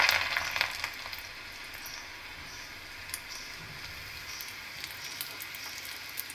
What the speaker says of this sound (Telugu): ఎల్లిపాయలు అయితే వేసుకుందాం.